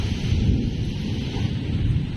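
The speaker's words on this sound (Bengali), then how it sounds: "আকাশে মেঘ ডাকছে।" Thunder rumbling across a cloudy sky, a low, continuous roll that stays fairly loud for the whole stretch with no voices over it.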